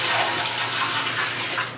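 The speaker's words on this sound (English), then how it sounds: "once you pour your last bucket of water" Water pours steadily from a bucket into a fly-media prep machine, a continuous close splashing rush with no voices.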